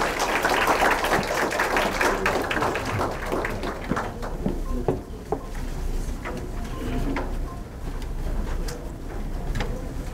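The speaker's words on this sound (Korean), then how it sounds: "장애인공단 고용개발원의 변민수 부연구위원님께서 주시기 때문에 박수로 맞아주십시오" An audience at an academic seminar on disability employment claps to welcome a speaker, a dense burst of applause that thins into scattered individual claps before fading out.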